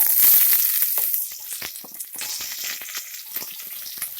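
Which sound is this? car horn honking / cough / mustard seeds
mustard seeds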